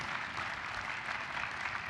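Audience applause at a Bowling Green State University spring commencement ceremony, a steady dense wash of clapping from a large crowd with no pauses, moderately loud and somewhat distant throughout.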